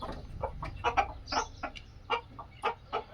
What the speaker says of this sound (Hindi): ये हमारे आपको मैंने प्योर देसी मुर्गे दिखाए हैं, प्योर देसी मुर्गे हैं, बिल्कुल ओरिजिनल।